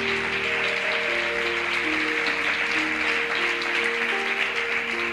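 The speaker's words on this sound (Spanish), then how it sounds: "¿Puede darle un aplauso a Dios por esto?" A church congregation applauding at a worship service, steady dense clapping with a sustained organ or keyboard chord beneath it, moderately distant.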